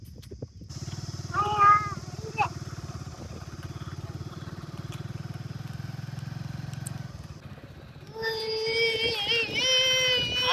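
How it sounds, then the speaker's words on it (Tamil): A village motorbike idles with a low steady engine hum, then revs louder near the end, with a few clanks and a brief call partway through and an animal-like wail rising over the later engine noise. "வண்டியை திருப்புங்க. வண்டியில் போவேன் திருப்பு."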